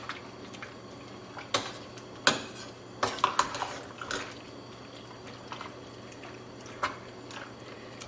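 Cherry chutney being stirred in a bowl with a utensil: wet squishing under intermittent sharp clinks of metal against the bowl, close and irregular, no talk.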